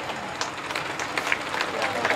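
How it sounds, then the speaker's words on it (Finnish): Crowd applause for a driver at a veteran tractor pulling contest, a brief dense patter of clapping under a commentator's voice. "Ja aplodit Matille."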